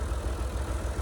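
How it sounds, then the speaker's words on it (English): A ported Homelite XL-870 chainsaw runs steadily at close range with a dense, continuous low engine drone, no voices over it. "Just running the saw"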